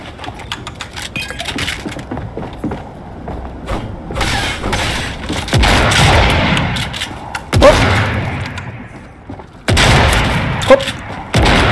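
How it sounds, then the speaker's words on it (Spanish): Shotgun blasts ring out in Fortnite amid a dense, loud gunfight, with several sharp booming bursts and clinking debris over a steady roar of game noise. "La escopeta, la escopeta."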